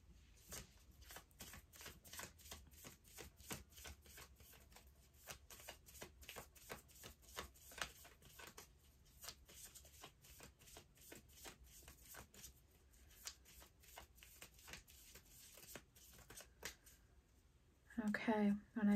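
A deck of tarot cards is shuffled by hand, with rapid, crisp riffling snaps in a fast steady rhythm that continues for most of the stretch, close and fairly quiet, ending in a brief louder rustle.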